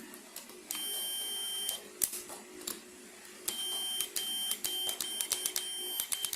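A repaired Philips air fryer gives a string of short electronic beeps and control clicks, with steady tonal bursts that start and stop in a fairly even rhythm, close and moderately loud.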